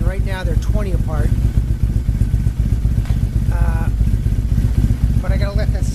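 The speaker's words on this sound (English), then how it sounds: "I gotta let the bike warm up." A Triumph Bonneville motorcycle engine idles steadily and close up while warming up before a throttle body synchronization, a constant low rumble with someone talking over it at times.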